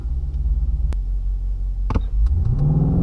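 BMW M850i engine held on launch control, a deep loud rumble with a sharp rev blip and a surge that swells into a rising, heavier roar near the end, close and alone with no talk.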